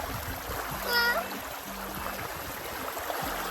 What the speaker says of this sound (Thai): เป็นน้ำไหลตรงนี้ก็ดูสบายนะคะสบาย